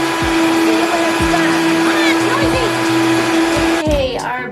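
A blender runs loud and steady, pureeing butternut squash soup with a constant motor whine and churning, then the pitch drops as it slows near the end.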